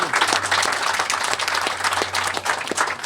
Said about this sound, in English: just want to give you guys a round of applause as well